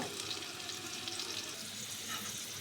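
Chopped onions for beresta fry in a pan and get stirred, a soft steady sizzle with faint scraping, quiet and close with no talk.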